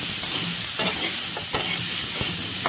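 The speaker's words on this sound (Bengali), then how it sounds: "এই যে পেঁপের ভিতর দিয়ে দিলাম, দিয়ে এটাও হালকা করে নাড়াচাড়া করে দিচ্ছি।" Prawns and papaya stirred in a pan, a steady frying sizzle under scraping spoon strokes that come irregularly, close and fairly loud, with no talking.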